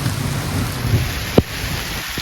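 Steady rain patters down during a thunderstorm outside a hand-built chicken pen, a continuous soft hiss broken by one sharp knock partway through and a fainter tap near the end.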